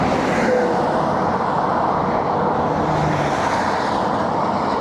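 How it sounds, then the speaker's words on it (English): Highway traffic rushes past at about 75 mph beside a wide road shoulder between Wyoming and Colorado, a continuous loud roar of tires and engines with no speech. "the traffic's whizzing by you at 75"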